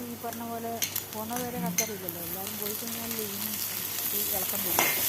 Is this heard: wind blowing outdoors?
no